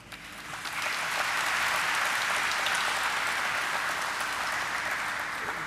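Audience applause at the ideaForge listing ceremony at the NSE, a dense, sustained clapping that swells in after a second and holds steady, broad and roomy with no speech over it.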